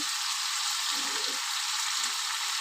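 Mushrooms cook in a hot pan, giving a steady, close hiss of frying that stays even throughout, with no talking.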